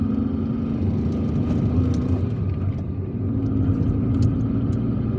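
A car driving through busy weekday streets of Algiers toward Champ de Manoeuvre, with a constant low engine and road rumble, faint traffic noise on top and no talking.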